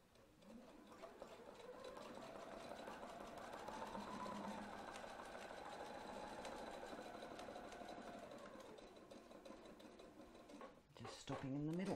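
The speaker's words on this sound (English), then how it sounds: "So once we finish sewing, we're going to bring our threads up and sew the ends in." A domestic sewing machine runs steadily while stitching a spiral, its motor whirring at a constant pace for several seconds before stopping near the end, close and moderately loud.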